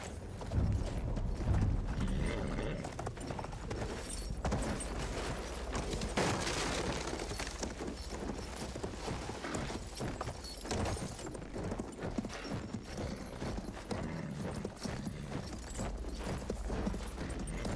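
Horse hooves clip-clopping in the video game Battlefield 1, a continuous trotting patter amid mechanical clatter and distant gunfire, fairly loud and sustained across the whole stretch.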